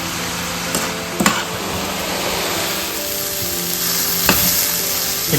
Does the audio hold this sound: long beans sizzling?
yes